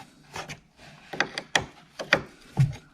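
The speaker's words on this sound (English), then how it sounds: "I'm going to loosen these terminals up first." A wrench clicks and ratchets in short, irregular bursts while loosening the battery terminals on a Jeep Patriot, close and clear. There are about six quick metallic clicks with soft rubbing between them.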